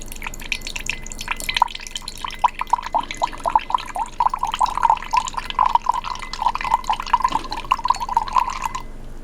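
Soy sauce trickles into a measuring cup for rabbit jerky marinade, a steady run of small dripping, splashing liquid sounds lasting several seconds, close and fairly clear with no talking.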